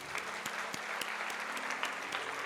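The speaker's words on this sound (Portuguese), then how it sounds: "Uma salva de palmas para esse pessoal aqui," Steady applause from a church congregation, dense overlapping clapping that stays at an even level throughout.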